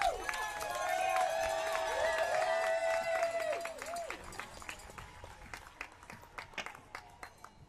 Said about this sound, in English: Give a big round of applause to all the survivors and all the victims and all the supporters today.